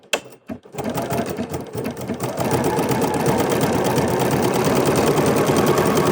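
A serger running a fancy rolled hem seam, starting with a few stuttering stitches and then settling into a fast, steady mechanical chatter that continues unbroken to the end, close and fairly loud, with no voices.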